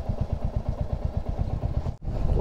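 A Royal Enfield Hunter 350 motorcycle idles nearby with a rapid, even thump-thump beat, steady and moderately loud, broken by a brief near-silent dip before the rhythm resumes.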